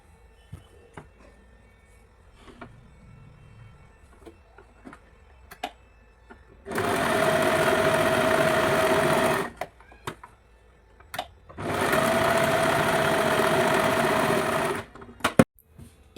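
A sewing machine stitches a plain blouse in two loud sustained runs of about three seconds each, with quiet gaps and small handling clicks before, between and after.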